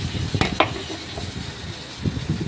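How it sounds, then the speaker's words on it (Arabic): Chopped vegetables being stirred and tossed together in a bowl for an Egyptian hawawshi filling, a few soft scraping and clattering strokes close by, the rest a quiet kitchen background. "بحطها في بوله وبروح جايه مقلبه المكونات على بعضها"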